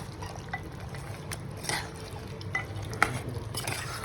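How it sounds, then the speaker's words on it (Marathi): Boiled mutton being stirred into a simmering masala in a pot, with soft, continuous wet scraping and a few sharper clicks of the spoon against the vessel, close and fairly quiet. "आता आपण याला मस्त मिक्स करून घेऊया नीट"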